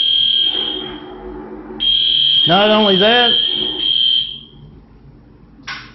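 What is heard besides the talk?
fire alarm sounding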